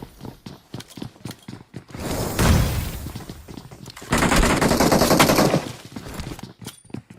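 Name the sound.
gunfire in video game BGMI (PUBG Mobile)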